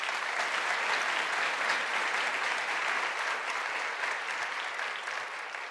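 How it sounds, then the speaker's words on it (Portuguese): A lecture audience gives steady, dense applause for two women standing in the crowd. It carries on throughout and fades slightly toward the end. "Por favor, aplaudam elas."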